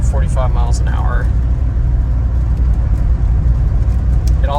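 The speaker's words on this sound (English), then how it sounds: "as you can see, foot is off, and we are cruising at 45 miles an hour" Restored 1990 Chevrolet Suburban V1500 Silverado 4x4 cruising at 45 mph, a steady low engine and road rumble inside the cabin, with a person talking briefly over it near the start and end.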